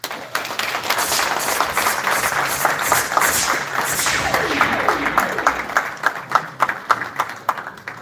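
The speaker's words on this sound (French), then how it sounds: "J'aimerais qu'on leur donne ce soir une main d'applaudissement." Audience applauds at a peace and democracy award ceremony, a loud, sustained round of dense clapping from a hall crowd that thins into scattered individual claps toward the end, with a voice speaking faintly over it.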